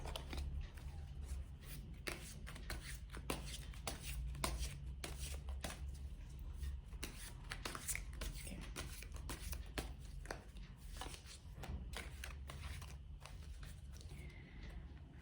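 Tarot cards being shuffled by hand, a steady run of quick papery riffles and taps that carries on for about fifteen seconds over a low background hum, with no talking.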